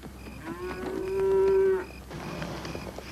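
Cattle, spooked on an open range in a Western drama, let out one drawn-out moo in the middle, moderately loud against low outdoor ambience, with faint scattered noises around it.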